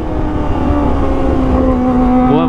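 A Kawasaki ZX25R fitted with an Arrow Pro Race exhaust revs loudly up close, a sustained high-pitched engine howl whose pitch holds and then climbs at the end, with no talk.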